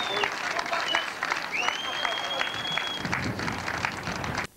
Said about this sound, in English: Well, round of applause for the first two,